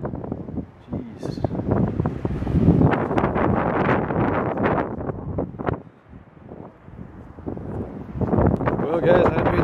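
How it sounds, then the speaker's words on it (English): Wind on a beach buffets the microphone in loud, gusty rumbling bursts, with a person talking over the noise. "I'm gonna try to block the wind out."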